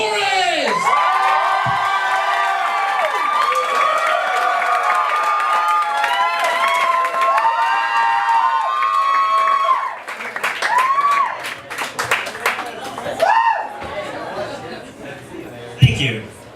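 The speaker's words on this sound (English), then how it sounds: "I want everyone to give a big round of applause for" A comedy-show crowd whoops, cheers and applauds in a loud, dense roar with many overlapping shouting voices, then it breaks into scattered laughter and claps toward the end.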